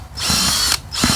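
A power drill whirs steadily as it mixes goat droppings into worm food, running in two bursts with a short pause between them. The sound is close and fairly loud.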